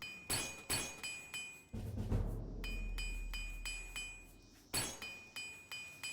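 Repeated hammering while repairing equipment in the video game Oblivion: sharp metallic clinks in steady groups of three or four, with a low whooshing menu or ambient swell in the middle and no talking.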